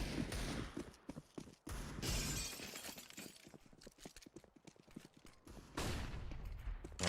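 Desert Eagle pistol fire in a Counter-Strike esports match: sharp, distinct shots in bursts, mixed with other game sounds and crackling impacts, fairly quiet overall.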